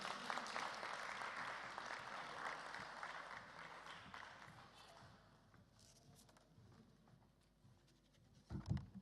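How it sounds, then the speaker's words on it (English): Audience applause at a university debate event welcoming a speaker, a broad crowd clapping that starts full and gradually thins and fades, followed by a few louder knocks or footsteps near the end. "Keep the applause going until he gets here"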